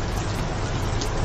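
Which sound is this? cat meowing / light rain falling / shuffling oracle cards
light rain falling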